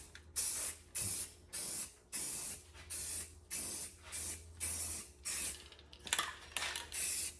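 A spray gun lays a primer coat on a truck in repeated bursts, each pass a loud steady hiss about half a second long with brief gaps between, nearby.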